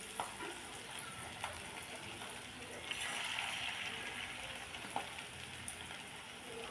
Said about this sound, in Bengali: তেলটা গরম হয়ে গেছে, এই বড়াগুলোকে আমি দিয়ে দিচ্ছি।